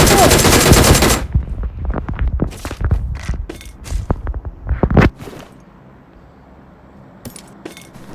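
Gunfire in the video game PUBG: a rapid burst of sharp automatic shots followed by scattered single cracks and a few quieter distant pops.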